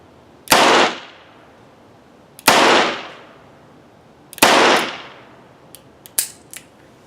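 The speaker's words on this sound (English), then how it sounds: "that's the first time I've ever shot this gun" Three loud, sharp gunshots from a full-size steel double-action revolver ring out about two seconds apart at an outdoor range, each trailing a long decaying echo, followed by a few fainter clicks and knocks.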